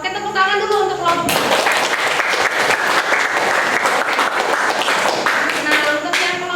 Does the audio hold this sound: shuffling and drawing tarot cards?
no